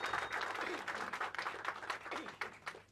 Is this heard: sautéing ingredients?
no